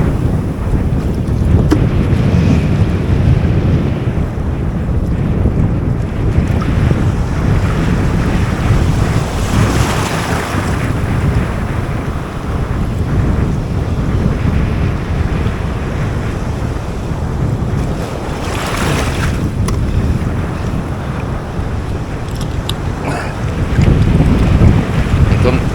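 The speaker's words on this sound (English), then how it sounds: "Triple waves coming in there now" Ocean waves rolling onto a beach at high tide, a continuous loud wash of surf with heavy wind buffeting the microphone, swelling at moments, no talk heard.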